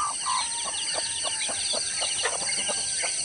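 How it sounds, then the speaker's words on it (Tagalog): Chickens on a rural farm cluck in a steady run of short, repeated calls, fairly close and loud over a constant high background hum, with no talking. "Gusto meron doon. Mga manok."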